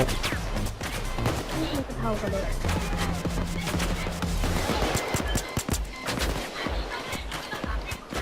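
Rapid bursts of enemy gunfire in the video game Payday 2, dense overlapping shots cracking steadily throughout with a loud, busy mix of game noise behind them.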